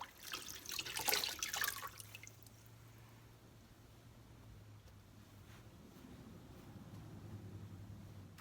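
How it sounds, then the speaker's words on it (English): Water squeezed out of sponges, with a brief burst of splashing and dripping at the start, then quiet, faint trickling and low background hum. "I'm just gonna squeeze them out first like this."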